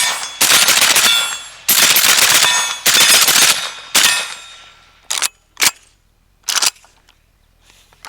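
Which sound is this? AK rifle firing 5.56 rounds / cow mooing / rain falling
AK rifle firing 5.56 rounds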